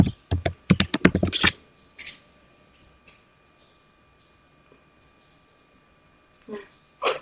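Typing on a computer keyboard: a quick run of crisp keystrokes at the start, then a few isolated, quieter taps after a long pause. Close and fairly clear, with no talking over it.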